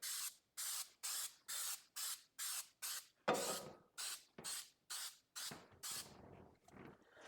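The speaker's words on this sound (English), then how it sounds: "So we're going to be using 3M Super 77. It's a very high-tack spray adhesive." 3M Super 77 high-tack spray adhesive hissing from a can in about a dozen short bursts, close and crisp, with a few longer sprays mid-sequence.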